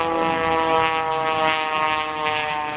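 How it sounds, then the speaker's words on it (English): A propeller on an aerobatic airplane at a beach air show roars past with the blade tips going transonic, giving a continuous loud, rasping, harmonic-rich drone that swells and eases slightly with no speech over it. "You can hear that propeller really ripping through the air."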